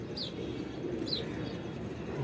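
A light pigeon coos softly, two faint brief calls over a steady low background hum, distant and quiet.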